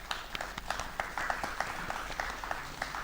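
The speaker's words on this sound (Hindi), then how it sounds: "मैं चाहूँगा कि हम सब स्वागत करें ज़ोरदार तालियों के साथ" Faint, sparse applause from an audience at an evening music and poetry gathering welcoming a guest poet, with individual claps standing out over a soft background.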